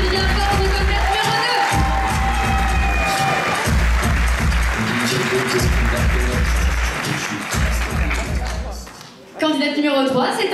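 Theatre audience at a pageant evening applauding a numbered candidate, a dense wash of clapping and crowd noise under amplified music throughout, thinning briefly near the end before rising again.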